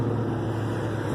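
A modified Rovan Rex engine idles low and steady, a continuous throbbing hum with no change in pitch, close and fairly loud.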